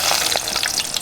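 Onions dropped into hot soybean oil, giving a loud, continuous sizzle and crackle up close for about a second.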